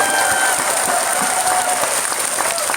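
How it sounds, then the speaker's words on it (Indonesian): Dense, steady clapping from a crowd at a large Islamic religious gathering (pengajian) in Taichung, Taiwan, filling the space evenly without a break, with faint voices mixed underneath. "Kurang kenceng, tepuk tangan."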